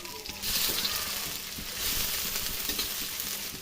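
Onion sizzles and fries in hot oil in a wok, a steady, close hiss that swells as the pieces hit the pan and holds without any talk.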